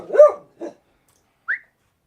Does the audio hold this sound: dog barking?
yes